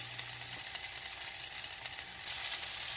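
Egg frying in a pan with mushrooms and sausages, a steady close sizzle and crackle that runs unbroken and grows slightly brighter toward the end, with no talking.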